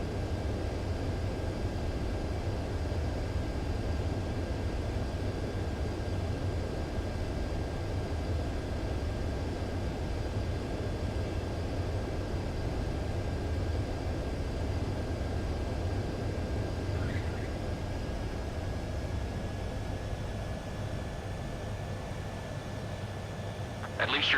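In the Ace Combat 7 video game, a fighter jet's engine roars steadily through a landing, a dense, even rumble with a thin high whine running throughout, loud and unbroken, ending in a brief sharp knock.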